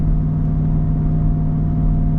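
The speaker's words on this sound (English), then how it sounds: "Now I'm going 8th gear climbing, going about 11 pounds of boost here." A 2024 Ford F-150 Raptor R with its 5.2L supercharged V8 pulls an enclosed trailer uphill in eighth gear under boost, giving a steady, loud, low engine drone with exhaust set to quiet mode and no voices.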